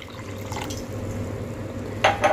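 Water, almost a glass, poured into a blended paste of guava and dates in a blender jar for sugar-free guava juice, a steady close liquid wash with a couple of brief splashy clinks near the end.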